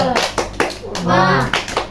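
Elementary school class performing the tepuk semangat clapping routine, a few sharp rhythmic claps in a pattern mixed with children's voices chanting along.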